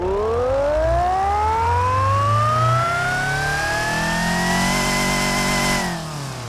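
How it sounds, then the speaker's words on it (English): A supercharged four-cylinder car engine in the Automation/BeamNG driving game revs up with a rising supercharger whine that climbs steadily for several seconds before dropping off, loud and alone. "That's just all supercharger."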